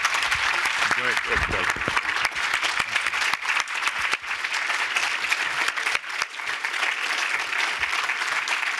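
A lecture audience applauding to welcome California's Attorney General, dense sustained clapping throughout, with a brief spoken thanks over it.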